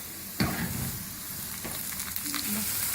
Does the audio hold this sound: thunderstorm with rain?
no